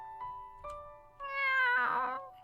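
A cat meows in the video game Fatal Twelve, giving a few short, tonal calls that swell into a louder, drawn-out meow near the end, heard alone and close.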